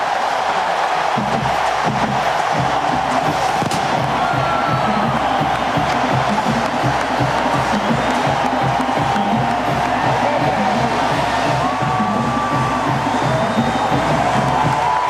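A packed stadium crowd cheers loudly as the Miami Hurricanes run out of the tunnel for a 2004 college football game against Clemson, a dense continuous roar with whoops and shouts throughout.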